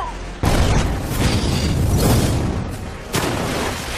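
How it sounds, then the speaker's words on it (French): Cannon fire in the French dub of an animated film: a loud boom bursts in near the start and another heavy blast lands after about three seconds, each trailing into a dense, rumbling roar. "Faites tirer les canons."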